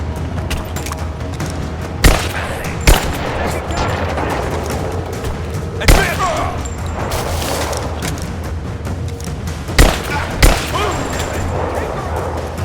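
Gunfire in the video game Rise of the Tomb Raider, several sharp shots spaced a second or more apart over a steady ambient rumble, with voices shouting during the firefight.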